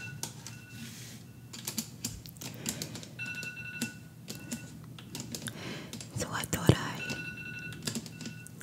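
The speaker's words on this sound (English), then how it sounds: "My son never turns off his phone alarm." An iPhone alarm chiming in repeated short electronic tones, coming and going at moderate level beneath close keyboard typing clicks and soft whispered speech.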